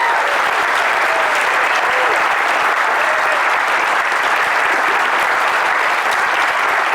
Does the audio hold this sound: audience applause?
yes